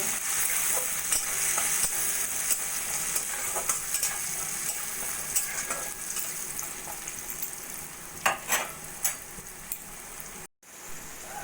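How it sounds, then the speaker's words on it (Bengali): Chopped jackfruit seeds fry with salt and turmeric in a pan, a steady close sizzle with brief stirring clatters toward the end. "কাঁঠালের বীজগুলো একটু ভাজা ভাজা করে নেব"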